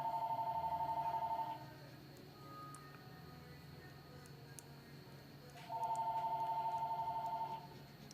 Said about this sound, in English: Ignore the phone ringing in the background.